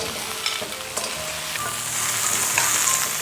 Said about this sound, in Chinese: 螃蟹下锅